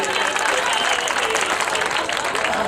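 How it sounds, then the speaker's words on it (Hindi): Audience at a mushaira, an Urdu poetry gathering, breaking into dense, continuous applause for a poet, moderately loud throughout with a murmur of voices mixed in. "दोस्तों एक बार जोरदार तालियां मीसम भाई के लिए बजाएं।"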